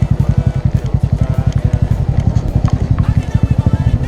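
A Bajaj Boxer motorcycle rides off-road through forest and bog, its engine giving a steady, close, throbbing pulse with a rapid even rhythm throughout.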